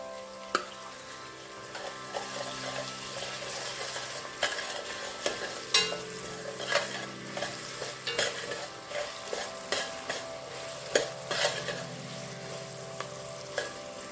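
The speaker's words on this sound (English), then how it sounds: "I will now add in the teaspoon of the tomato paste to add color to the oil." Onion and tomato paste sizzle steadily in hot oil while a spoon stirs and scrapes the pan in irregular clicks and knocks, close and continuous throughout.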